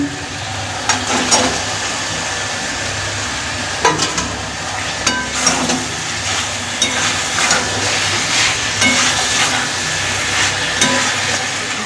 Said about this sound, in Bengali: এবার আমি সবজিগুলো ঢেলে দেবো। আর আমি সব কিছু একসাথেই ঢেলে দিচ্ছি।